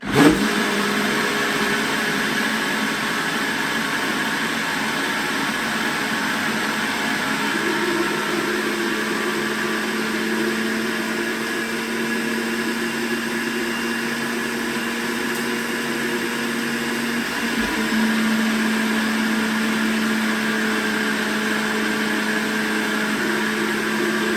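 A blender mixing raw carrot cake frosting ingredients runs with a loud steady motor whir for over twenty seconds, its pitch shifting slightly as the load changes.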